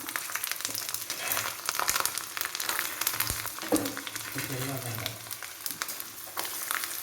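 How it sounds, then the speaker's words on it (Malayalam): Garlic hits hot oil with crackling fenugreek seeds for a Kerala papaya pickle, making a busy, continuous close sizzle and spatter with a few stirring knocks. "ഇനി നമുക്ക് വെളുത്തുള്ളി ഇട്ട് കൊടുക്കാം."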